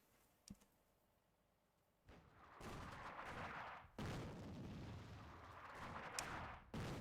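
Artillery fire in a WWII North Africa war video game: a sharp distant thump, then two long stretches of rumbling, crackling barrage broken by a sudden loud burst, with a brief spike near the end.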